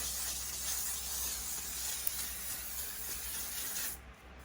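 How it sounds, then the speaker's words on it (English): L'Oreal Infallible setting spray mists over a face in one long, steady, close hiss lasting around four seconds, then stops abruptly, with no voices. "spray my L'Oreal Infallible spray over my face"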